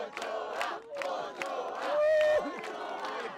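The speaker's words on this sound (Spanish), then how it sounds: "Un aplauso a la Ochoa, a todas." A crowd cheers and chants in rhythmic bursts for Ochoa, host of the Gabarra gathering in Bilbao, with voices rising to a loud sustained swell near the end.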